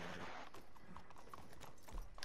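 Horse hooves clip-clop in the Red Dead video game, a quiet run of irregular thuds over a busy, low background with no talking.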